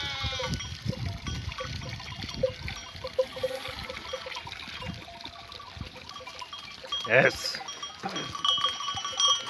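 Sheep drink from a fountain on a highland pasture, bleating now and then beside trickling water, with someone speaking over the scene and one loud bleat standing out near the end.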